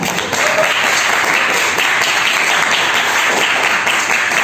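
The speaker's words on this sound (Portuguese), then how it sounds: "Uma salva de palmas para ela." An audience at a regional book launch event in Caraguatatuba breaks into dense, sustained applause, loud and even for several seconds with no talk over it.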